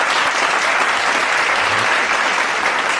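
Applause from a studio audience after tasting a dish on an Eid holiday cooking show: a dense, steady burst of many hands clapping, loud and close, with no pause.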